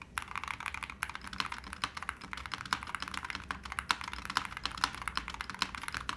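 Keys on a Holy60 mechanical keyboard are pressed in rapid, steady clacks with dense, even typing rhythm, close up and crisp, and no voices.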